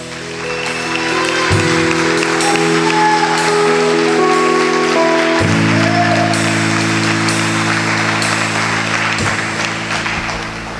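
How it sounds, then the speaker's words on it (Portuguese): A church congregation applauds loudly at a family worship service, a dense sustained wash of clapping lasting the whole stretch over a steady low musical drone. "Aplauda o Senhor bem forte."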